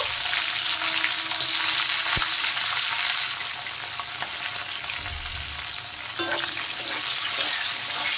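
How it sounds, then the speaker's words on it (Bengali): Capsicum frying in oil left over from frying paneer, a steady dense sizzle that eases slightly midway, with an occasional sharp utensil knock, no speech. "পনির ভাজা তেলের মধ্যে এখন আমি ক্যাপসিকামগুলো একটু ভেজে নেব।"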